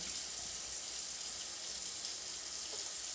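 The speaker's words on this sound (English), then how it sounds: "So fill it back up with water again." Water runs steadily into a bottle from a tap, a constant, close rushing hiss.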